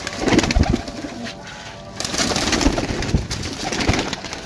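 Pigeons at a loft in Sarai Alamgir, Gujrat, coo steadily in a soft, repeated rolling chorus, with several birds close by and some rustling and flutter underneath.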